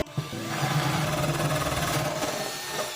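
A power drill bores a hole through the back of a wooden Warré beehive box, a steady close whirring grind that runs continuously for a few seconds.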